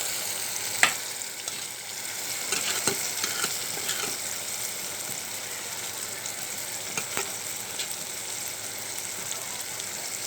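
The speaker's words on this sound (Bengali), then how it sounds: "এখন আমি মাছগুলো ঢেলে দেব।" Small kechki fish fry in a pan with a continuous close sizzle, with a few sharp spatula taps and scrapes scattered through it.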